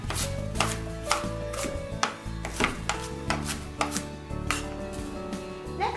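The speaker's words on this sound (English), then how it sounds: "you can go back and cut the onion into smaller pieces" A knife chops an onion into smaller pieces on a cutting board, making sharp, close, evenly spaced thuds in a quick steady rhythm with no talking.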